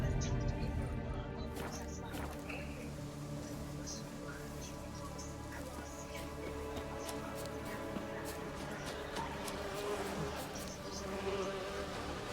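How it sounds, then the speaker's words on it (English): Bees buzz steadily in The Witcher 3: Wild Hunt on PC, a continuous insect drone layered with game ambience and someone talking over it. "Stupid bees."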